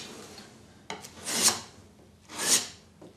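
Two slow, rasping strokes of sanding against a boat hull, close and distinct, with quieter scraping in between.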